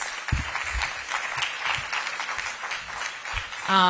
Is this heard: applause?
yes